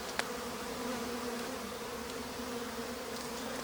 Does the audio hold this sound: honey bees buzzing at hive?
yes